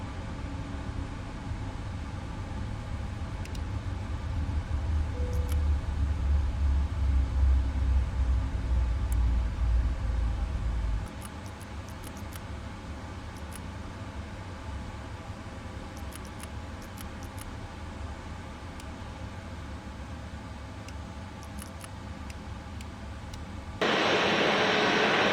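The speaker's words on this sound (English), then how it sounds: "APU is running, shutting down engines 1 and 2" Boeing 777-200ER engines shutting down in Microsoft Flight Simulator 2024, a loud low engine rumble that drops away about halfway into a quieter hum with scattered clicks, and a burst of hiss near the end.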